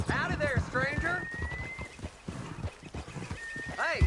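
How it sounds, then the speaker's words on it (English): A horse clip-clops its hooves and gives a short whinny close by, mixed with voices talking over it. "nice looking horse you have there"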